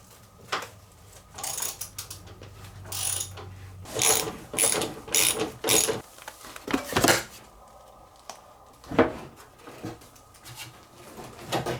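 A hand ratchet clicks in short, quick bursts close by while removing bolts from the gas tank of a 1988 Honda Fourtrax 300 ATV, with pauses between strokes in a quiet garage.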